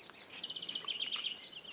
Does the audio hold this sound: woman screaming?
no